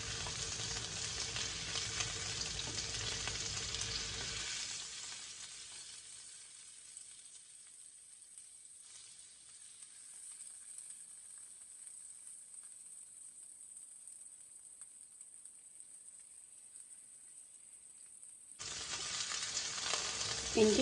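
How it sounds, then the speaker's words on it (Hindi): Chicken seekh kebabs shallow-fry in oil over medium heat, a dense crackling sizzle that thins to a soft hiss for a long stretch before rising again to full, close frying. "दरमियानी आंच पे हम इसे शैलो फ्राई करेंगे।"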